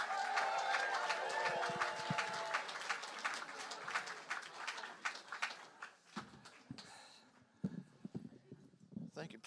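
Audience applauding and cheering for stand-up comedian Andy Herman at a Seattle comedy show, a dense sustained ovation that thins into scattered claps toward the end.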